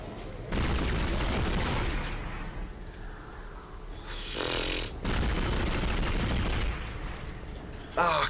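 Weapon fire at a tentacle boss in the video game Dead Space, dense bursts of shooting and impacts filling most of the clip, with a sharp louder burst near the middle and crackling at the end, under a player's excited voice.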